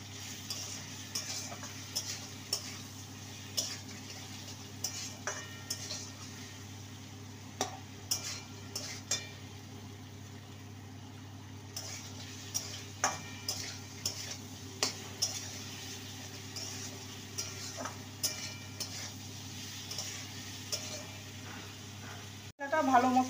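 Gourd being stir-fried in a pan with a little cumin powder and coriander powder, with soft intermittent scraping and clinking of a spatula over a steady low hum, faint and unhurried throughout.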